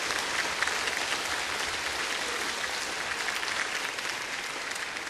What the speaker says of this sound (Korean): 우리 장관님 감사하다고 박수 한번 크게 보내주세요